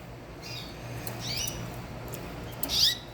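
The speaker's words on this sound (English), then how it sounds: "Canaries are not tame birds." Young pet canaries give a few faint high chirps and squeaks over a steady low background hum, with one slightly louder call near the end.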